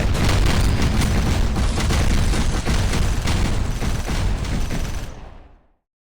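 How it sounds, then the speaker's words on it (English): Rocket turrets in overdrive in the video game Decimation fire a dense, continuous barrage of booming blasts and rapid explosive volleys, loud throughout before cutting off and fading to silence at the end. "Explosive Volley, gives a huge rate of fire bonus to all of your rocket turrets"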